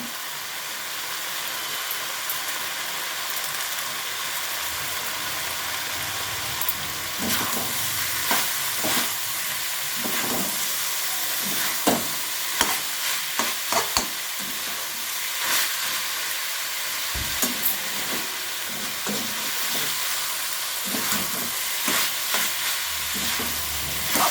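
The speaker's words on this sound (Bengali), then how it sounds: "এবারে একসাথে সবটা ভালোভাবে মিশিয়ে নেব।" Chicken roll filling with chili sauce being stirred and mixed in a frying pan, a steady hissing sizzle broken by repeated scraping strokes of the spatula, close with no talk.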